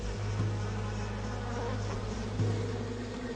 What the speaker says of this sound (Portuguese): Outras ficam lá fora, esvoaçando para coletar néctar e pólen das plantas do seu jardim